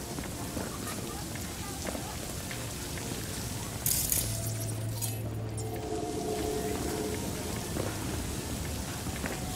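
Steady rain hiss in the video game Cyberpunk 2077 fills the scene with a brief rumble of thunder, while a person talks over the downpour.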